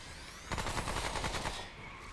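Automated turrets in the video game Remnant: From The Ashes open fire in a sustained, rapid burst of gunfire lasting about a second, loud against a steady background hum that continues after the shots stop.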